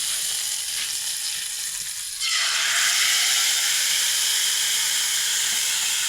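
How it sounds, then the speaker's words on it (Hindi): Hot tadka hits a pot of kadhi, bursting into a sudden loud sizzle partway through that follows a quieter hiss and then holds as a steady, close crackling hiss with no talking. "देखिए जी हमने जो तड़का तैयार किया था ये हम इसमें डालेंगे।"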